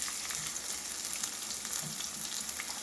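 Onion pieces fry in hot oil in a pan over village-style cooking, a close, steady sizzling crackle that runs unbroken, with no one speaking.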